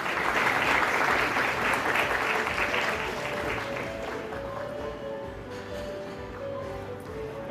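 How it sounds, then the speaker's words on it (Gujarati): Applause at a stock exchange listing ceremony, with a room of people clapping steadily and fairly close for several seconds. A faint tone and murmurs sit underneath, and the clapping tapers slightly toward the end. "એક વાર જોરદાર તાળીઓ થઈ જાય"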